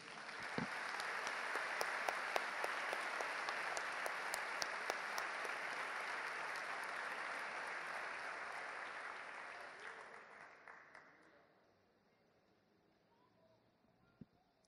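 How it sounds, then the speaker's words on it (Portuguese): A church congregation applauds in a sustained, dense wash of clapping that holds steady for about ten seconds, then fades out, leaving a quiet room with a single faint knock near the end. "Aplauda aquele que vive e reina."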